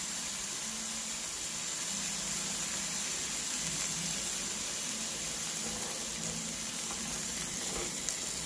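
Eggs fry alongside bacon in a pan, giving a steady close-up sizzle and crackle that continues evenly with no speech.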